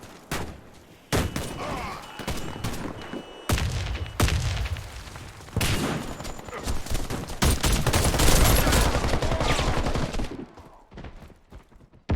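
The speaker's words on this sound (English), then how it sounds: "Grenade out! Fire in the hole!" Gunfire bursts and booming grenade blasts from the Warface shooter game, loud and close, with rapid fusillades and heavy thuds coming in repeated waves with short gaps.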